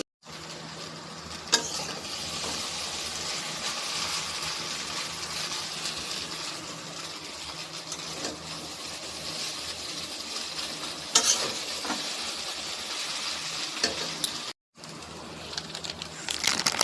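An egg frying in mustard oil for chowmein, a steady close sizzle with occasional stirring clicks and spatula knocks, a brief cut near the end before the crackle resumes.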